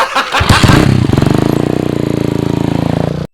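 A motorcycle engine revs briefly, then settles into a steady, rapid, chugging idle close by, running alone with no talk.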